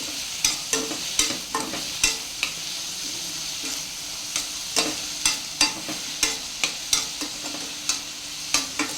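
Turmeric frying in oil for palak khichdi, with a steady sizzle under sharp metallic clicks of a spoon stirring the pan roughly twice a second, close and clear.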